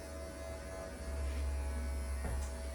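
Electric clippers shaving a doodle dog's coat, a continuous close buzzing hum that deepens slightly as the blades work through the thick hair.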